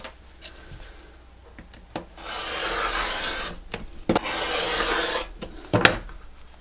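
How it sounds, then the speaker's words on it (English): Scissors trimming quilt fabric along a yellow border, giving close, rasping snips and rustling cuts in a few separate bursts, each lasting about a second, with faint handling taps between them. "I'm gonna cut this to follow the yellow, so I'm trimming it"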